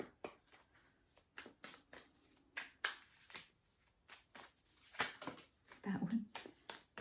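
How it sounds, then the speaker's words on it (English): Tarot cards are shuffled by hand in a quick series of soft, papery riffling bursts. The bursts come in an uneven rhythm, close and fairly quiet. "now let me pull out some tarot cards as well"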